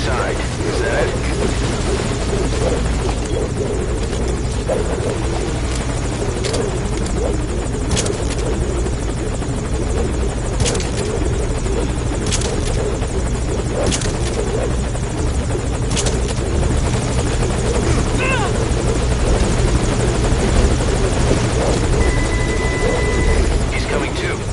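A chopper from Metal Gear Solid Ground Zeroes hovers close by, its rotor beating in a dense, unbroken roar for the whole stretch while people speak over the noise.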